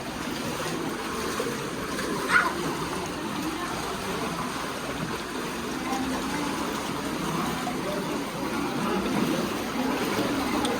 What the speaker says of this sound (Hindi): देखो दोस्तों पानी किस तरह से आ रहा है